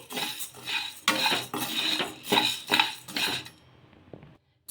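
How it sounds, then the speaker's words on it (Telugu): Sago is dry-roasted in a kadai, with rhythmic, close scraping and rattling strokes as it is stirred, then a sudden drop to near silence at the end. "కడాయిలోకి సగ్గు బియ్యాన్ని వేసేసుకొని సిమ్లో పెట్టుకొని వేయించేసుకోవాలి"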